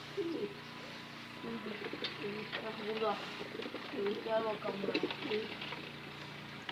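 Soft, low cooing from a Mardin pigeon repeats close by while someone speaks briefly over it, with a faint steady hum in the background.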